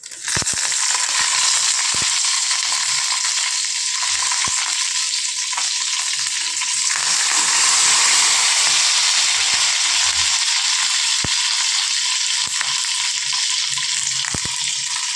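Dried red chillies, garlic and curry leaves sauté in a pan for a coconut chutney tempering. A continuous close-up frying hiss swells and settles, broken by sharp clicks of a spoon against the pan.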